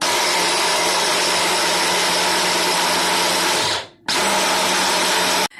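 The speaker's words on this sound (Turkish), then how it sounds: "robotumuzun kapağını kapattık. İçine bütün malzemeyi ilave ettim. Şimdi çalıştıralım." A food processor whirs loudly and steadily as it blends parsley, garlic and the other ingredients for a garlicky cream cheese meze, briefly cutting out and then starting up again.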